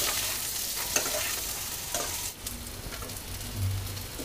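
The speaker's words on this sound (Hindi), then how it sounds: "शिमला मिर्च और प्याज को दो मिनट भून लेते हैं।" Capsicum and onion stir-frying in a pan for a vermicelli (sewai) dish: close, bright continuous sizzling with repeated spatula scrapes and stirring knocks.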